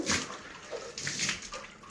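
Water sprayed to wash the engine room of a boat at Dwarka gives a close, gushing hiss in two bursts with a short pause between them.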